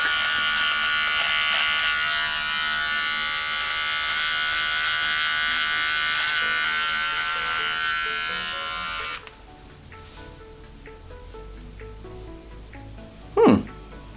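Electric beard trimmer cutting through a man's beard, a steady close buzzing that runs for several seconds and then cuts off, leaving quiet rustling and a brief thump.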